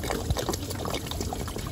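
Coolant pours out into a drain pan beneath a Ford Mondeo 2.0 TDCI after the water pump is cracked away, a brief, steady splashing gush of liquid heard up close with no talk.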